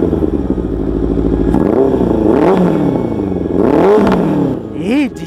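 An engine revs hard several times in quick rises and falls over a steady running drone, loud and close, with voices talking nearby.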